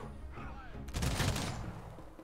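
Volley of gunfire from units in Humankind, a sudden dense burst of rapid shots that erupts after a quiet moment and then fades out over about a second, at mid distance.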